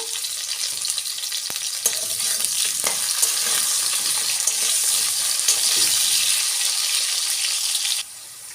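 Potato and carrot pieces sprinkled with salt fry in hot oil for a rohu fish curry, with a steady, loud sizzle and occasional stirring scrapes throughout, cutting off abruptly near the end.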